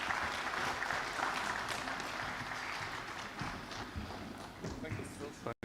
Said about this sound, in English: Can we give him a hearty clap?